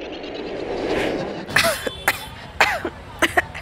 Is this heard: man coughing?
yes